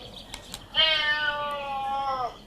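A single drawn-out cat meow plays from a children's animal sound card toy, close and clear, with faint clicks just before it.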